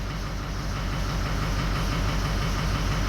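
A 6.0L Powerstroke diesel idles roughly with bank-one injectors dropping out, giving a steady, loud, close clatter with an uneven, lumpy pulse and no voices.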